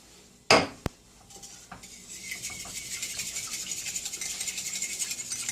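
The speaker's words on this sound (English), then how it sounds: "I'm throwing my tarragon in here, whipping that up into my wash" A whisk clinks against a bowl as tarragon and hot sauce are whipped into an egg wash, opening with a sharp clatter and knock, then a steady rhythmic scraping and stirring that builds and continues to the end.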